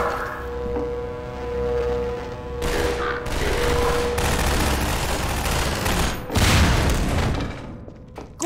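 Automated turrets in Half-Life 2 fire in dense, rapid bursts, loud and continuous with booming impacts and explosions overlapping through most of the stretch, alone without talk.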